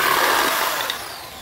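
A power saw cuts a Dutch teak wood board for a children's wooden toy, a loud, close, steady high-pitched whine that eases slightly toward the end of the brief cut.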